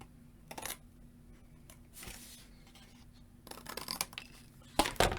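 Scissors snip the corner off a paper sheet held against chipboard during a craft project, giving a few short, crisp cutting clicks scattered across a quiet background, the sharpest one near the end.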